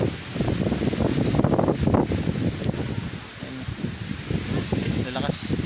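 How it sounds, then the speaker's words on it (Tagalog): Strong wind roars steadily across the microphone with rustling noise, while voices talk underneath. "Lakas ng hangin."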